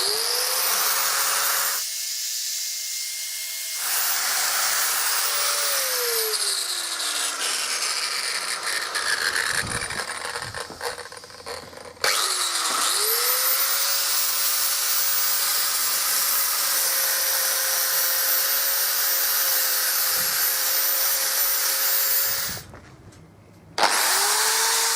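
An angle grinder strips coating off a steel mono-wheel trailer hitch tube, a loud, close, continuous high whine that sags in pitch under load and spins back up, cutting out briefly twice before restarting.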